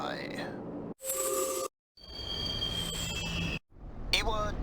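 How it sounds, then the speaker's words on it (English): Train running in Persona 3 Portable: a steady rolling rumble with rail noise, broken by short silent gaps, with faint high tones and a squeal near the end. "This is the final train bound for Tatsumi Port Island."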